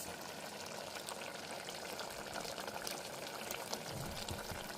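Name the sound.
mutton frying while cooking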